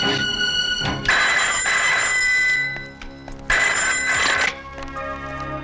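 A telephone rings twice in bright, harmonic bursts, each about a second and a half long, separated by a short pause over a faint music background.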